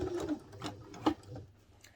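A sewing machine stitches a messenger satchel bag, running in short uneven bursts with a soft mechanical whir and a sharper clack near the middle, fairly quiet and close with no talking.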